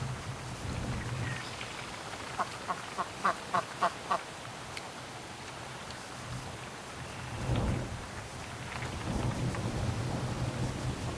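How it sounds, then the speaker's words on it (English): A duck at a duck and goose egg hatching setup gives a quick run of about five sharp quacks partway through. Steady rain and rumbling thunder continue underneath throughout. "what's this duck doing?"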